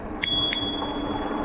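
Two quick rings of a bicycle bell on an Ariel Rider D-Class e-bike, bright and close, over a steady outdoor background of wind and ambient noise.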